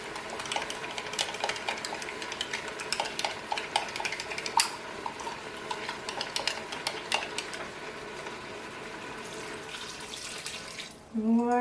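Water mixed with veal stock runs and splashes steadily into a Cookeo multicooker pot, with light clinks of utensils throughout and a short louder clatter at the end.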